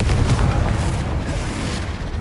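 A Confringo blasting spell explodes in Hogwarts Legacy, a heavy rumbling boom that stays loud throughout, then trails off with a rolling low-end tail.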